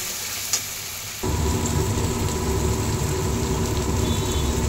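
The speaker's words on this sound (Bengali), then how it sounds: "মশলাটা ঢেলে দিলাম, এটাকে একটু কষিয়ে নেবো।" Masala spice paste hits a hot pan and bursts into a loud, steady sizzle, after a quieter moment of low kitchen noise and a small clink.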